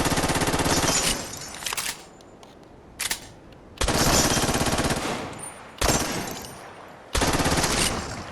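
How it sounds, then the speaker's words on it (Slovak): Rapid automatic gunfire from a gun in the VR game Crossfire: Sierra Squad, aimed at mannequins, in four loud sustained bursts separated by short pauses and a couple of single shots. "tuto vieme takto strieľať do manekín a simulovať, že ich zabijeme"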